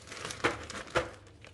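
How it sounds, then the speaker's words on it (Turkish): Petit beurre biscuits dropped into a sturdy plastic freezer bag give two sharp crinkling rustles, close up over a faint background, with softer handling crackles between them. "Petibör bisküviyi sağlam bir buzdolabı poşetinin içerisine koyuyorum."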